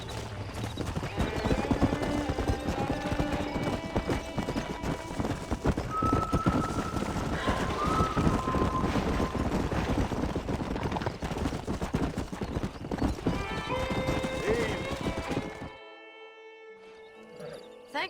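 Steady, rapid hoofbeats of a galloping horse in the video game Red Dead Redemption, with a faint whinny midway, cutting off abruptly near the end.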